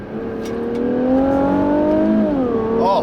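2017 Infiniti Q60 Red Sport 400 accelerating hard, a loud engine note climbing steadily in pitch inside the cabin, then a brief dip as it shifts and climbs again.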